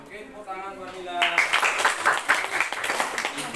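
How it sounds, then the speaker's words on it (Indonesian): A sixth-grade class of children breaks into a short burst of clapping for a classmate, fairly soft and scattered, starting after a moment of talk and continuing for a few seconds. "tepuk tangan buat Mila"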